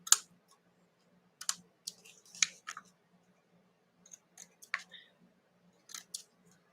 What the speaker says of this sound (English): Probably should get the longer scissors.